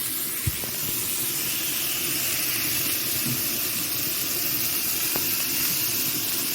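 Water poured into a hot pan while cooking jackfruit with shrimp gives a steady, loud steam hiss and sizzle that holds throughout, with a few faint clicks.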